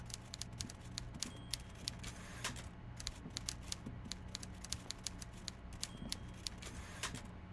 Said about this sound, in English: I can hear a typewriter going.